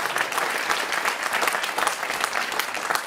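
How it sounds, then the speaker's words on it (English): Audience at a live jazz event claps steadily and fairly loudly, a dense wash of hands continuing throughout without any speech. "Round of applause for that."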